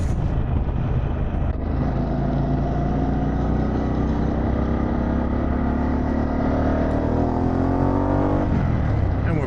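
Harley-Davidson Pan America motorcycle fitted with a Vance & Hines exhaust, a loud close engine rumble rising steadily as the bike accelerates away, with a brief gear change near the end.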